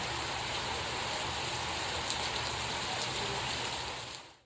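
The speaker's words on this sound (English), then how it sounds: "a torrential downpour starts" A torrential tropical downpour pours steadily: a dense, even roar of heavy rain hitting water and surfaces, close and continuous, cutting off at the end.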